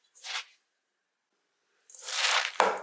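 Salted cabbage for sauerkraut is squeezed and massaged by hand, giving two bursts of wet crunching and squelching: a short one first, then a longer, louder scrunch after a pause. The sound is close and there is no talking.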